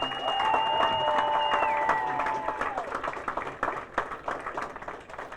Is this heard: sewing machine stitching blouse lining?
no